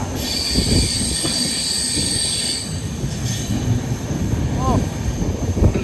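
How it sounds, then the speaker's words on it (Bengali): A Vande Bharat sleeper train on the Kamakhya–Howrah route passes close by, heard from another moving train, with a steady roar of rolling wagons, squealing wheels and clattering rail joints throughout. "হচ্ছে বন্দে ভারত স্লিপার বেরিয়ে যাচ্ছে কামাখ্যা হাওড়া।"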